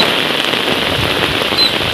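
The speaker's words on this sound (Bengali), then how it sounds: "ছাতায় রক্ষা হচ্ছে না এত পরিমাণে বৃষ্টি হচ্ছে" Heavy rain pours down in a dense, steady hiss during a fierce storm, loud and continuous, with no one talking.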